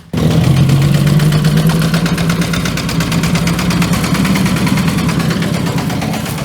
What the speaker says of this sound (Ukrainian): зараз тебе трактором переїде